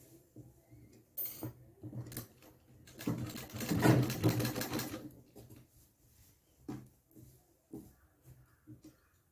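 Sewing machine stitching Patiala pants, a close, uneven run of fast mechanical stitching bursts with clicks and fabric handling in between, loudest in the middle.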